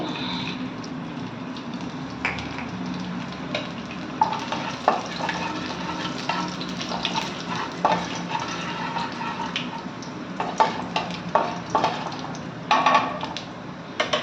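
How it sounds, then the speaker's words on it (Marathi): Finely chopped garlic dropped into a pot already holding coriander, sizzling steadily in hot oil with intermittent stirring clatter and scraping, close and moderately loud, no talking. "आता बारीक चिरलेलं लसूण घालणार आहे"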